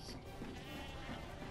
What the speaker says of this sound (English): I shall not want all these sheep following me